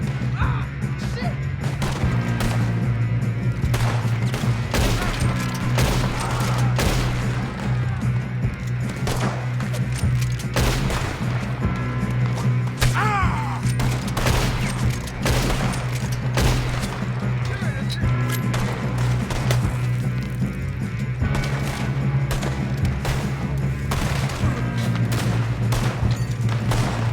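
A shootout in Red Dead Redemption 2: a steady string of sharp gunshots and booms over a constant droning score, with shots cracking every second or so and some near and loud, others farther off.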